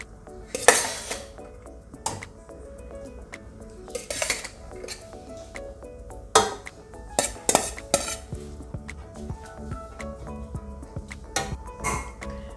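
A spoon clinks and scrapes against a serving dish in scattered sharp knocks while rice is layered in for fish biryani, with a quiet background hum between the hits.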